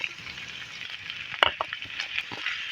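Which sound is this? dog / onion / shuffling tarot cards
onion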